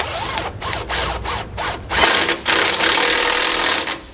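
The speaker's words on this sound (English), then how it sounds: "Now we'll come back with that 15 and 18mm socket and tighten up the brackets that are holding" Socket wrench with 15 and 18 mm sockets tightening the brackets that hold a Roadmaster front anti-sway bar to a 2017 Jayco Redhawk motorhome frame, loud close bursts of rapid ratcheting followed by a sustained whirring run.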